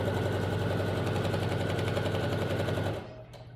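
Domestic sewing machine running a steady straight stitch at 3.5 stitch length for shirring, a fast continuous mechanical whir with rhythmic needle clatter, close and loud, stopping abruptly near the end.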